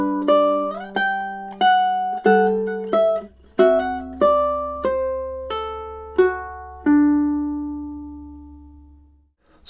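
A ukulele plays two measures of Tárrega's Adelita as a classical piece, with clear plucked single notes and small chords ringing out at a steady, unhurried pace, closing on a long sustained note.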